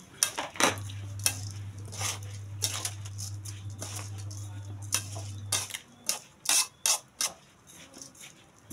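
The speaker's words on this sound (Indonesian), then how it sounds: "Kita aduk lagi." Spoon stirring grated turmeric in a metal pot, scattered clinks and scrapes, sparse at first and then quicker taps toward the end, close, with a steady low hum under part of it.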